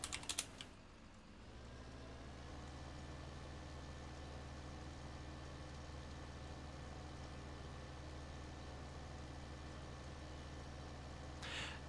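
Keyboard typing at a computer, steady light clatter lasting throughout, set over a constant low engine drone from a Farming Simulator 15 logging session in the rain.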